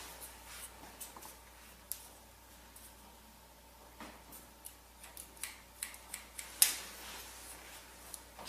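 Scissors trimming a girl's hair while shaping a stacked twist ponytail, a series of quiet, crisp snips close by that come more frequently toward the end in an otherwise quiet room.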